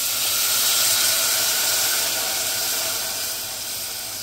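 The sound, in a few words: ingredients added to hot tempering oil, sizzling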